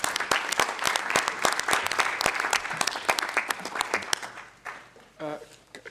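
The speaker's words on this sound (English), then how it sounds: "I'd like to thank once again by applauding all the panelists" Audience at a UN roundtable on e-learning platforms applauds the panelists with a burst of steady clapping from many hands, filling the room and then tapering off as a voice begins speaking near the end.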